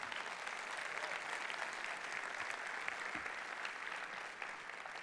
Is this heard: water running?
no